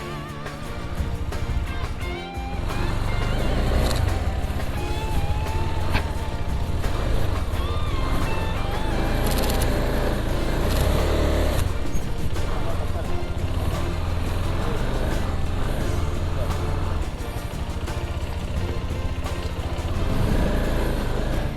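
A KTM 390 Adventure motorcycle riding an off-road trail through water makes a steady engine drone that briefly drops and then holds loud and constant, with people talking over it.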